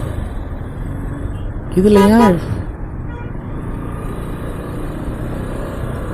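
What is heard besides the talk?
road traffic heard from a delivery motorbike in Saudi Arabia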